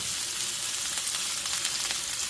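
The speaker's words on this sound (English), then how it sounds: "once the pan is hot, we're going to add in some onions" Onions sizzling and frying in hot oil in a pan, a steady close crackling hiss with no talk over it.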